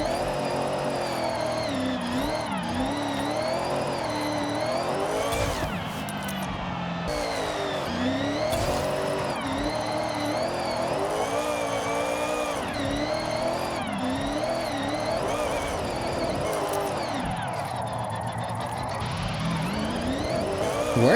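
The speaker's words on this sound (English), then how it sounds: "That exhaust sounds terrible." A Mitsubishi Lancer Evo IX drift car in the video game Forza Horizon revs and drops repeatedly in sweeping waves, exhaust note rising and falling with tire noise, continuous and loud with no talking.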